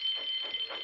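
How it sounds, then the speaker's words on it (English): A continuous, shrill electronic alarm tone rings steadily at high pitch, loud and unbroken throughout with no voices. "Soon came the alarm."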